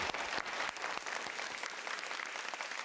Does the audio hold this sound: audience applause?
yes